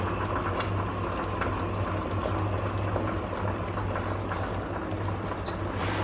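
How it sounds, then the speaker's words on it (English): Bone marrow broth bubbles at a medium boil in a pot, a continuous dense burbling and low rumble that stays steady and close with no voices. "I'm just gonna bring it down to like a medium boil"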